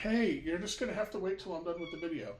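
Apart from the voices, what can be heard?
cat meowing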